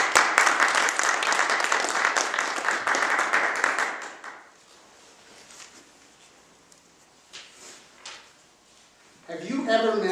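Audience applause for a guest speaker: a dense burst of clapping that runs loud for about four seconds, then fades into quiet room noise, with scattered faint claps and a voice starting to speak at the end.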